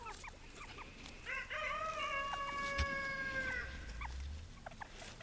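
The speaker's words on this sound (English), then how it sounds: "Hazel, as I said in the last Bantam video, is our oldest Bantam" Bantam chickens cluck and call softly in a coop, a few drawn-out tonal notes and short clucks over a steady background hiss, faint and fairly close.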